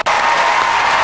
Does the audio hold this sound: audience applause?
yes